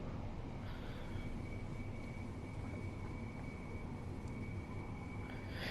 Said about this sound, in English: It is nice to finally have the Electrostar sounds updated though, especially for a route like this